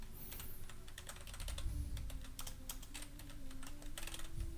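Rapid typing of a person's name on a computer keyboard, a steady run of close, crisp key clicks with no voices, set against a faint background hum.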